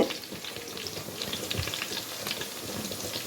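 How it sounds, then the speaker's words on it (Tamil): Whole green chillies being lightly sautéed in hot oil in a Tamil home kitchen, a steady close sizzle and crackle with a few sharper pops, no voices over it. "அதையும் நல்லா நம்ம லைட்டாக வதக்கிக்கலாம்"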